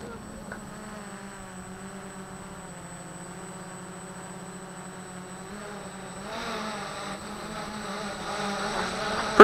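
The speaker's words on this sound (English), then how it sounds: "I'm going to put the quadcopter overhead first." A Syma X5C quadcopter drone with an FPV system hovering overhead, its motors giving a steady buzzing whine that swells slightly louder toward the end.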